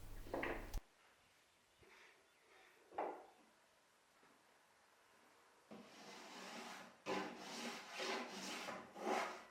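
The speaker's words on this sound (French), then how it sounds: "je réalise la coupe d'onglet à la vastringue" A spokeshave shaves a mitre cut into a wooden bathroom worktop in a series of rasping strokes, a few isolated scrapes at first, then a longer run of repeated strokes toward the end, close and moderately loud.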